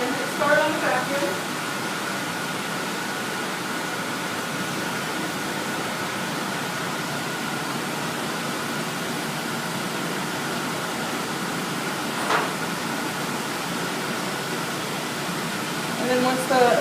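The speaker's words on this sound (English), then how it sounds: "Put on the vacuum, and then we're going to hit start on the vacuum." A vacuum pump runs steadily while filtering oil, giving a constant, even broadband hiss with no change in level, plus a brief click partway through.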